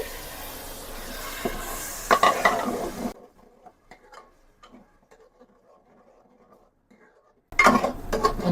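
Tomato puree and Kashmiri red masala sizzle in a pan of butter for paneer pav bhaji, with a loud frying hiss and stirring clatter near the start, a quieter stretch with faint scrapes, then the sizzle returning loudly at the end.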